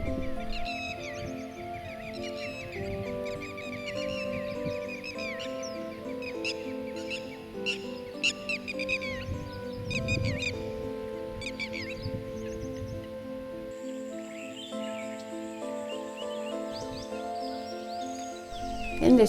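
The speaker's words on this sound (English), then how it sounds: "As you can hear, there are lots of birds along the lake shore." Many birds call along the shore of a big dammed lake on the Kabini River in Nagarhole National Park, with repeated chirps and whistles and a steady hum underneath.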